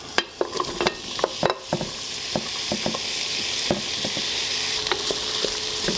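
Onions and tempeh sizzle in hot olive oil in a multicooker, a steady frying hiss broken by repeated clinks and scrapes of stirring, loudest in the first seconds, then settling into a constant close crackle.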